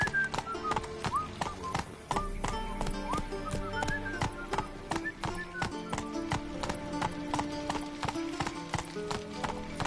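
Horse hooves galloping in the video game The Witcher 3, a fast rhythmic clip-clop running throughout, close and loud, over background music with occasional whinnies.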